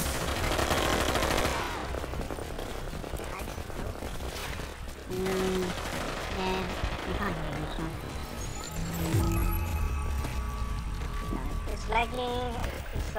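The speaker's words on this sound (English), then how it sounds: "And I can only hear my freaking bullets" A player's own weapon firing in a video game: a rapid machine-gun style burst at first, then scattered, irregular shots mixed with clanking game effects, with a voice talking over parts of it.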